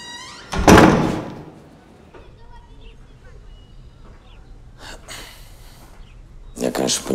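A door is shut with a single thud near the start, followed by quieter room sounds and some rustling, with voices present.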